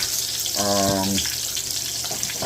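Oil sizzles and crackles steadily in a hot pan, a continuous loud frying hiss with a short low hum partway through.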